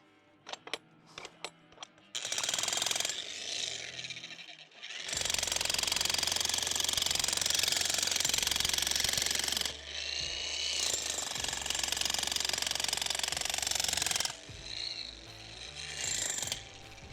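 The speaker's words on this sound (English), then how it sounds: "I've never used a jackhammer like this, but it seemed to work pretty well for getting the chimney base out." Jackhammer pounding out the base of a brick chimney during a house teardown, in long loud bursts with short pauses between, rattling and dense, close to the mic.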